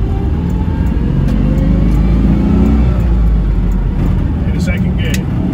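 Citroen 2CV engine droning steadily while the old car drives in second gear, a loud continuous low-pitched hum under someone speaking throughout.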